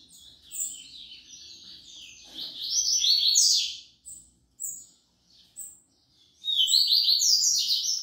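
A songbird sings loudly during a bird singing duel, with bright, rapid chirping phrases that come in bursts separated by brief pauses, close and alone with no voices.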